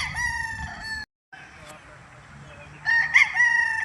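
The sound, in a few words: roosters crowing at a gamefowl farm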